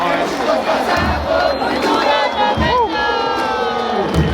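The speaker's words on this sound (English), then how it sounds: "Everybody's screaming, chanting, they won." A loud football crowd in Comuna 13, Medellin, cheers, shouts and chants after a match ends in a win, a dense, continuous roar of many voices with whoops rising over it.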